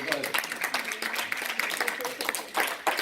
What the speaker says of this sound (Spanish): Dale un fuerte aplauso, si puedes.